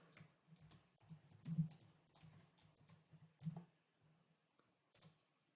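Keys clatter on a computer keyboard as a username and password are typed, with quiet, uneven bursts of clicks and a few louder taps close by.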